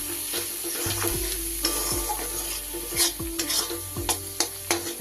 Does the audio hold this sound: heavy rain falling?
no